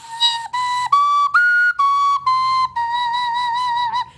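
Wooden ocarina played solo, a clear, pure whistle-like tone moving through short separate notes, then one longer held note, close and fairly loud.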